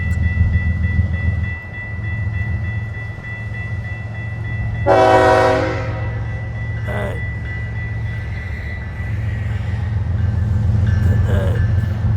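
Train passing at Big Oak Road in St. Augustine, Florida, a loud rumbling roll with a short horn blast midway and a fainter horn later, heavy and close throughout.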